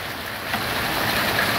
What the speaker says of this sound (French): Oh les billes qui tombent.